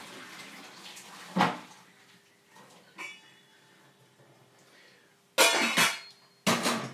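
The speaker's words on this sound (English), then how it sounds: "Drain the water off the mashed potatoes." Boiled potato water is poured off in a kitchen, with a brief splash, a clatter, then two loud, gushing bursts of draining water near the end of a quiet stretch.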